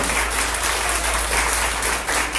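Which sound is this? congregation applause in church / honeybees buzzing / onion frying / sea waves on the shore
congregation applause in church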